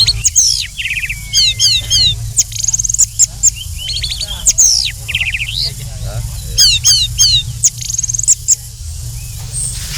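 A nine-month-old orange-headed thrush (anis merah), a contest songbird, sings loudly and close in rapid chirps, whistles and trills over a low background hum.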